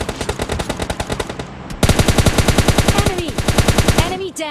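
Rapid automatic gunfire in PUBG Mobile: two sustained bursts of loud, evenly spaced shots, the second louder and denser, with a faint voice underneath.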